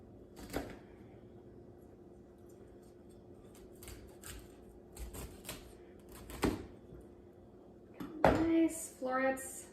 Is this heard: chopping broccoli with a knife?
yes